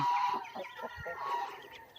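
Crossbred chickens cluck softly and keep up a low, murmuring chatter, with short irregular calls close by in a quiet coop.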